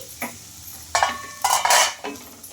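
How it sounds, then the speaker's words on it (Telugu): A spoon scrapes and clanks around a pan of aloo curry seasoned with coriander powder, garam masala and fresh coriander, giving a few brisk metallic stirring bursts close by with quiet gaps between. "ఇంకా ఇవన్నీ వేసేసుకొని బాగా కలిపేసుకోవాలి"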